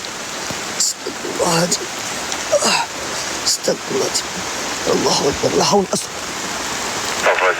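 Heavy rain pours steadily in an abandoned village in Sleman, a dense constant hiss filling the whole stretch beneath a man's repeated murmured prayers and exclamations.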